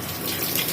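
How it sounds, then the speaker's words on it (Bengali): Okra is washed under a running kitchen tap, giving a steady, close gush of water that continues throughout with no voices. "এখন ঢেঁড়সগুলোকে আমি ধুয়ে নিচ্ছি।"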